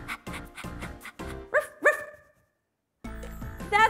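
A person imitates a dog barking in a guessing game for toddlers: a quick run of voiced woofs, a pair of louder yelping barks, a brief silence, then more barking, close and clear.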